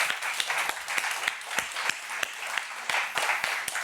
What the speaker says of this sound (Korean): 그렇게 하신 하나님께 우리 영광의 박수 올려드리겠습니다